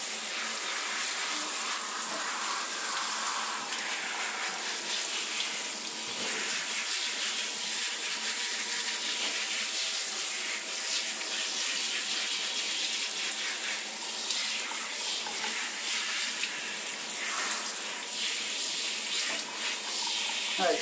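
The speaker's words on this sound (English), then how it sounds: "you just want to switch the shower off." A shower runs continuously while a dog is washed, a steady close rush and spatter of water lasting throughout, with faint voices underneath.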